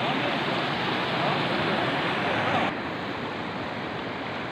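Steady, loud rush of floodwater pouring continuously past a breached embankment dam, a broad roaring wash that drops slightly in level partway through, with no voices.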